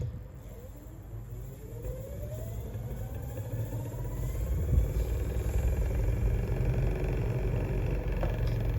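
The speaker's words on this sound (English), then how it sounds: "So your best bet is to slowly accelerate like this." An electric skateboard motor spins up slowly and steadily, a continuous low hum and rumble with a faint tone that rises gradually in pitch and grows slightly louder over several seconds, with no one talking.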